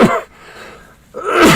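A single sharp sneeze, loud and close, with a quick breathy intake before it and an abrupt burst at the end.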